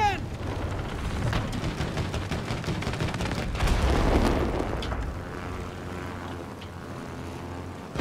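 Continuous gunfire from the co-op video game It Takes Two rattles in rapid, dense bursts for about five seconds, then gives way to a steadier tonal game soundtrack.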